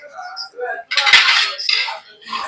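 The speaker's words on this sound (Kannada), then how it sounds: "ಇದು ಇವಾಗ ಮುಚ್ಚಿಡ್ತಾನೆ ನೋಡ್ರಿ." A pot lid clatters down onto a cooking pot of fried chicken and bone pieces, a bright metallic clank with a brief ring, followed by a few softer kitchen-utensil knocks nearby.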